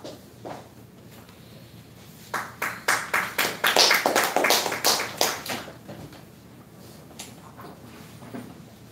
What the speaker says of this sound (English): Can we give a round of applause to DTM Suresh Vadakath for his research and presentation with his title Nipah